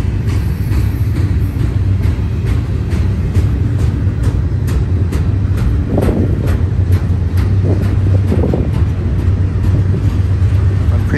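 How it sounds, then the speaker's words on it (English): A freight stack train loaded with international containers passes close by. Its loud, steady rumble and wind roar are cut with regular clicks of wheels crossing rail joints. "This looks like it's just a stack train."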